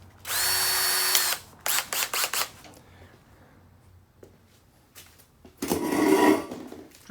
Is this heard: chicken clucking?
no